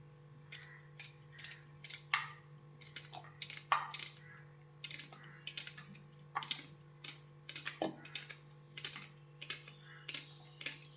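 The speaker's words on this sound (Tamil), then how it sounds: "வெங்காயம் சின்ன சின்னதாக கட் பண்ணி எடுத்து வச்சுக்கலாம்." Onions being cut into small pieces with a knife make crisp, rapid chopping taps on a board, coming in quick irregular bursts, close and fairly quiet, with no talking.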